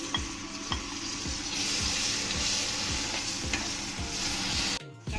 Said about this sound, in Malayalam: ഇനി നമുക്ക് ഇതിലേക്ക് ഒരു ചെറിയ തക്കാളി കട്ട് ചെയ്ത് ചേർത്ത് കൊടുക്കാം.